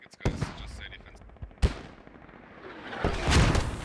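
Distant mortar and gun fire during a video game skirmish: scattered heavy thuds and sharp bursts, with a rumbling impact building toward the end, under faint commentary voices.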